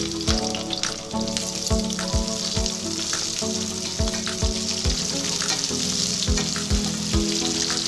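Biryani masala, chopped onion and green chili frying in hot ghee in a pan for paneer dum biryani, a steady loud sizzle with repeated low knocks from stirring against the pan, no talk.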